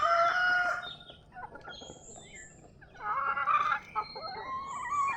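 Several native chickens clucking and calling close by, with bursts of louder squawking between quieter moments.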